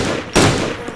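Gunfire in the video game DayZ: one loud, sharp shot bursts in near the middle and decays into a rolling echo, standing alone after a quieter stretch of background noise.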